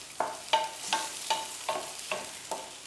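Ripe country plantain-type banana sautés in a pan, with seven evenly spaced spoon strokes scraping and stirring through a soft, quiet sizzle.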